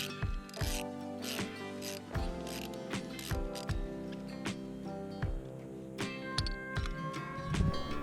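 Ratchet wrench clicks in repeated bursts, close and clear, as shifter bolts on an 83-02 Camaro/Firebird are broken loose with a long extension, metallic ticking and occasional clanks, no talking.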